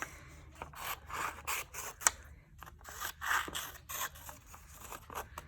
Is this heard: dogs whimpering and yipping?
no